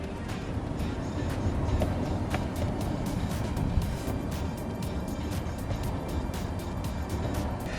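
A Genesis G80 electric car pulls hard in sport mode with all-wheel drive, giving a steady broadband whoosh of road and wind noise that builds slightly and holds, with no engine roar and no talking.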